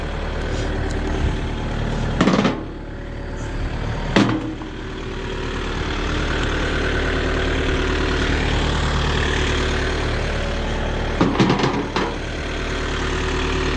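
A Kioti RX 7030 tractor drives downhill in second gear, its engine giving a steady, heavy low drone. A few louder clunks and rattles break through at intervals, and no one speaks.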